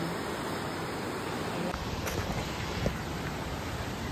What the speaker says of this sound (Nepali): खोला चाहिँ